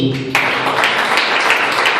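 A church congregation at an apostolic youth service in Venezuela bursts into applause after a short low-pitched lead-in, the clapping continuing loud and dense to the end.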